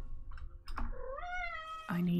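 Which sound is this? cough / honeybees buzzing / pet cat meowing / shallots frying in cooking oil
pet cat meowing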